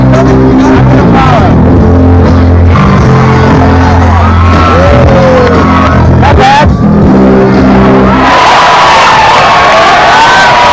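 A Mardi Gras parade crowd cheers and whoops, loud and dense. Shouts and voices overlap throughout, and the noise swells into broad cheering near the end.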